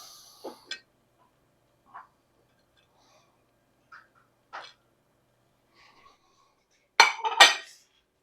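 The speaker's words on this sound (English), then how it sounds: "We can plate up the bacon." Bacon being plated up, with a few sparse, separate clinks of dishes and cutlery close by, ending in a louder clatter of plates near the end.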